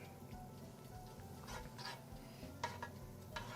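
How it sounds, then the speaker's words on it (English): Kerrygold Irish butter melts with a low, steady sizzle in a pan preheated on medium-high, with a few soft utensil clinks and scrapes breaking through near the end. "I'm going to drop in a tablespoon of butter."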